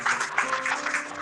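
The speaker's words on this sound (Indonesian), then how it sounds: "Berikan tepuk" A church congregation claps in a brief burst of applause, with a dense, fairly even patter of hands that is moderately loud and carries no speech.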